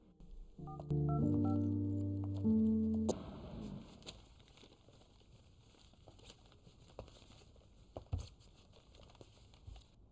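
A telephone being dialed: a quick run of clear keypad tones lasting about two seconds, followed by a soft clack and faint crackling handling noise, close but quiet.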